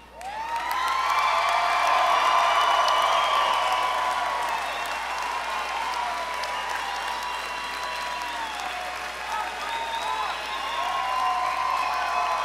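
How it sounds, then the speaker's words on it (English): Sustained applause and cheering from a large crowd at a 2023 university commencement ceremony greets the graduates, loud and continuous with whistles and whoops throughout. "please give a round of applause for the graduates of the class of 2023"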